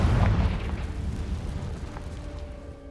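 The Confringo blasting curse erupts in Hogwarts Legacy as a deep, rumbling boom that hits hard at the start and rolls off into a long, fading low-end tail, with no talking.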